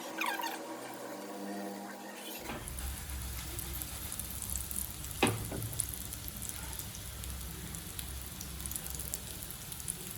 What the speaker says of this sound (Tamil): எண்ணெய் காஞ்ச உடனே அந்த கட்லெட்டை ஒவ்வொன்றா எடுத்து வைப்போம்.